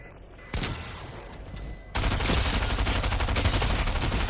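Gunfire rattles through a video game battle, starting softer then jumping to a loud, dense, continuous barrage of shots that fills the rest.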